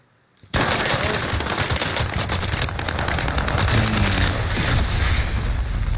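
Sustained rapid gunfire in a Call of Duty match, erupting suddenly after a brief quiet moment and continuing loud and dense like machine-gun bursts, with booms mixed in.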